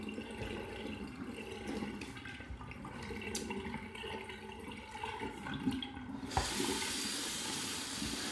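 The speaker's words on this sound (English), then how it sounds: "Get some more warm water in there." Warm water runs steadily from a tap into a sink during a wet shave, a continuous close splashing hiss that swells louder near the end as the flow increases.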